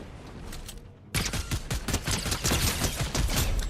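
Dense rapid gunfire in a shooter video game during a match, sudden loud bursts of rattling shots starting after a quieter moment and continuing nonstop.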